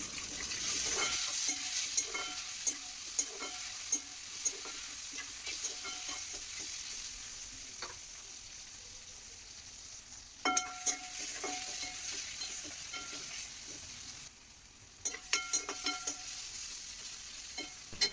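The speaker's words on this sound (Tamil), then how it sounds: "வெங்காயம் நல்லா வதங்கி வந்துடுச்சு இப்போது கட் பண்ணி வச்சுருக்க தக்காளியும் போட்டு வதக்கிக்கலாம்" Onions and tomatoes sautéing in a pan for sambar rice (bisi bele bath): a continuous close sizzle with repeated scraping, clinking stirs, and no talk.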